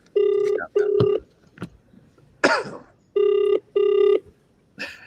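Phone ringing on an outgoing WhatsApp call, four loud electronic ring bursts in two pairs, separated by pauses with brief coughs and throat noises between them.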